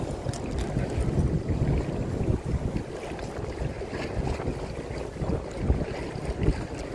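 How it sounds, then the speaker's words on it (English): Strong wind blows across a lake around a fishing boat, a constant low buffeting rumble with gusty wind noise on the microphone and faint water slaps, and no talking. "Maybe the wind will be a little bit less in the corner too. It's blowing so hard."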